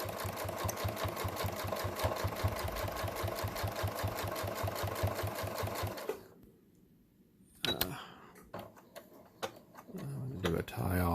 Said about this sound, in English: sewing machine, and I'm going to just manually stitch right down this seam line